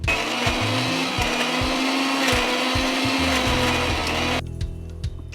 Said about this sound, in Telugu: ఇప్పుడు ఇది కూడా మిక్సీ పట్టాలి